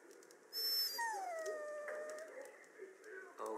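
A dog whimpers and whines in the Dragon Age Origins video game, drawn-out plaintive cries over a quiet background hum, with a brief sharper sound near the end.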